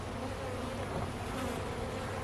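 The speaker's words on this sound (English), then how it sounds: "And these are my Sasky bees." Sasky honey bees buzz at an open hive during an inspection, a dense, continuous close hum of many wings with no voices.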